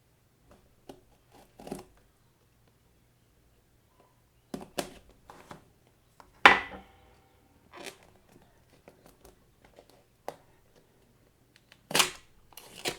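A Samsung Galaxy Fit 3 retail box is cut open along the bottom, giving sparse, close, sharp slicing and snapping sounds at irregular intervals, separated by near silence.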